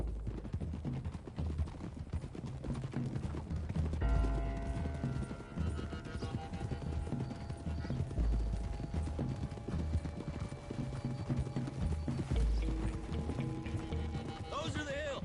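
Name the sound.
horses galloping in Red Dead Redemption 2 video game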